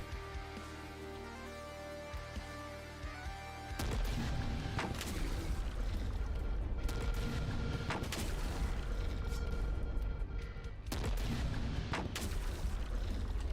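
Mortar fire in The Last Spell, a heavy boom followed by a dense run of explosive blasts and crashes that stays loud and continuous, with several sharp impacts standing out above the roar.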